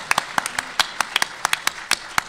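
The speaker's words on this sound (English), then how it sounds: "Thanks for the applause" Scattered hand claps from a panel audience at a legal discussion, a sparse, irregular string of distinct close claps rather than a full ovation.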